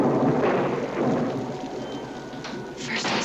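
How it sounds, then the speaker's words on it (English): Heavy rain and gusting wind blow in through wide-open windows, with a low rumble of thunder rolling beneath a steady wash of loud, close rain and no talking. "The windows were wide open and the damn wind and rain was coming in."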